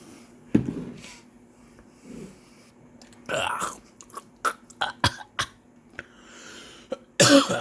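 Someone with a persistent cough, taking medication with honey, gives several close, sharp coughs and throat-clearing bursts, mixed with mouth noises and handling sounds, ending in a louder burst.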